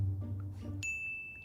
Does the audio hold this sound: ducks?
no